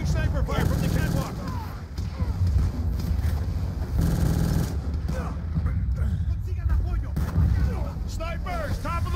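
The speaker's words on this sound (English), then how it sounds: "Taking sniper fire from the catwalk!" Sniper shots and heavy gunfire ring out in a Call of Duty Black Ops 2 battle, sharp cracks and booms over rumbling action while voices shout battlefield callouts.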